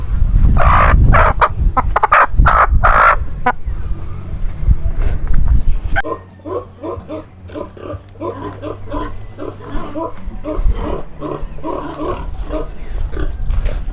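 A chicken being caught on a Filipino farm, with a burst of loud, agitated squawking and flapping at first, then a steady run of rhythmic clucks and calls over a low background hum.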